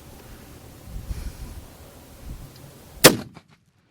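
A .416 Barrett rifle fires a single sharp, loud shot across an open paddock near the end, following quiet low rumbling handling noise, then the sound cuts to silence.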